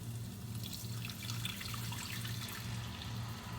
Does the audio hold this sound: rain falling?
no